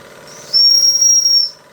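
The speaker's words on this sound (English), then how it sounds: "I'll try the whistle." A Bing overtype model steam engine whistle shrieks for about a second, loud and piercing, over a soft steady hiss of steam.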